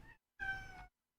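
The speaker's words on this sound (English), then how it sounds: "That's my cat." A cat meows twice, close and clear: a short first call and then a longer, drawn-out meow, with silence between and after.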